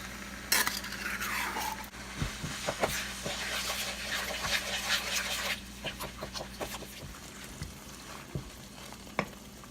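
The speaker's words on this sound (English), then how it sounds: "So now I basically fry it to get a bit of the sour taste from the tomato out." Tomato paste and seasoning frying in a pot as the base for a fish stew, with a bubbling sizzle, repeated clinks and scrapes of a spoon stirring against the pan, and quieter sputtering toward the end.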